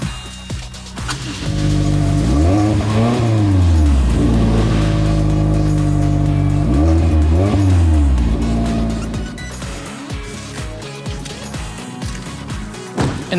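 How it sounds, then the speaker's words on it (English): Toyota Corolla Apex Edition with a conical tuned-muffler exhaust, revving loudly in repeated rising and falling sweeps, close and dominant before settling to a lower rumble. "the exhaust system we saw earlier, which uses a conical design and tuned muffler to deliver a pulse-quickening tone"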